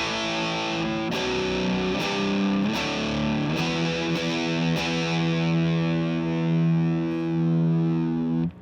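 An electric guitar runs through loop 1 of an EarthQuaker Devices Swiss Things pedalboard reconciler, which engages several effects at once. A heavily distorted tone carries a few struck chords, then one sustained, ringing chord, loud and close with no talking.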